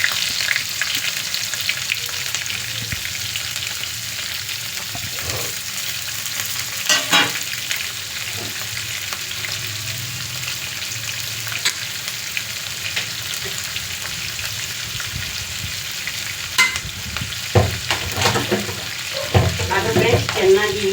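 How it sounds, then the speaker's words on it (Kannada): Chopped onions fry in a pan with a loud, steady sizzle that holds for the whole stretch, with the occasional scrape of stirring on top. "ಅದು ಫ್ರೆಂಡ್ಸ್ ಚೆನ್ನಾಗಿ ಈರುಳ್ಳಿ ಬೇಯಬೇಕು"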